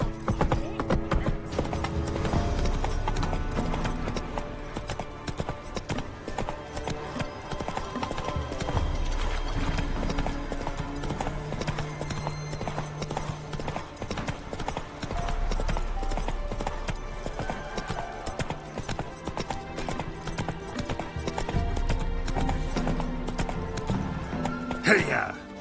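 Horse hooves clip-clop steadily as Roach gallops in The Witcher 3, a continuous rhythmic beat throughout with occasional whinnies, under spoken dialogue and game music.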